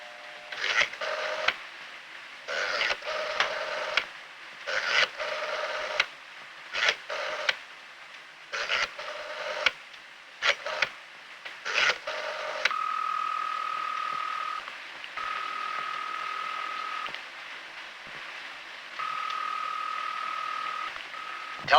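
An old rotary-era home telephone being dialed, a series of short repeated clicking tone bursts in a steady rhythm, then longer sustained steady tones like a ringing line, heard clearly with no talk.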